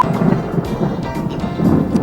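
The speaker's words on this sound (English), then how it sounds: "You sure you don't want the thunder?" Thunder from a lightning storm along the Big Sur coast rolls and rumbles loudly with a deep sustained growl and swelling low bursts, no voices over it.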